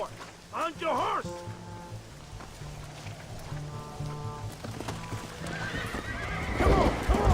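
Horses in the video game Red Dead Redemption gallop with steady clip-clopping hooves and let out loud whinnies near the start and again at the end, under shouting voices and game music.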